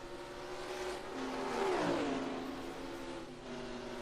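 Stock cars at the Phoenix oval in a racing video game, a steady engine drone building to a louder revving pass near the middle, with a rising and falling pitch sweep before settling back to a continuous hum.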